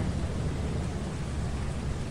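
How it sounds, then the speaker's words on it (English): Rain and thunder in the video game Lethal Company, a dense steady hiss of downpour with a low rumbling underlayer, continuous and fairly loud. "It's raining in Egypt."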